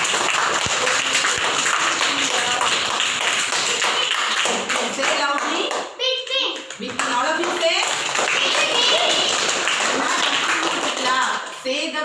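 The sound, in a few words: children clapping in class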